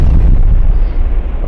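Smoke grenade exploding in an Unreal Engine 5 game, heard as a loud, deep, rumbling burst that fills the short moment.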